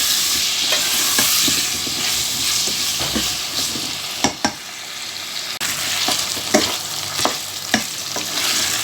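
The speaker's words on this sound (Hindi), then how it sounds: "अब इसको हम प्याज के साथ थोड़ा सा और फ्राई करेंगे" Potatoes and onion fry steadily in a pan for an aloo shimla mirch dish, a continuous crackling sizzle broken by several sharp scrapes and clicks of stirring, close and alone with no talk.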